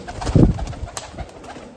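Soft, throaty cooing from a pigeon, a few low rolling notes up close with light background noise.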